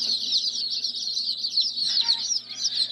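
Agitated chickens in a brooder, stirred up after being moved, give a steady high-pitched chorus of peeping and clucking that runs continuously at close range throughout.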